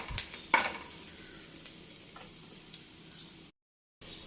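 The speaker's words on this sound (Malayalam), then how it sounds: "2 വറ്റൽ മുളക് കൂടി ഇട്ട് കൊടുക്കുന്നുണ്ട്." Two dried red chillies fry in oil in a pan with a faint, steady sizzle. A few louder stirring knocks come early, and the sound drops out briefly before resuming.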